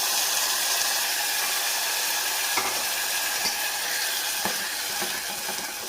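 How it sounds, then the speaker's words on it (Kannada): Mixed curd hits a hot tempering of mustard seeds, cumin and chillies for dahi kadhi, giving a steady, close sizzle and hiss. A few soft stirring knocks come through, and no one speaks. "ಒಗ್ಗರಣೆ ಹಾಕ್ಕೊಂಡು ಇವಾಗ ಕಲಸಿಟ್ಕೊಂಡಿರೋ ಮೊಸರನ್ನ ಹಾಕ್ತಾಯಿದ್ದೀನಿ."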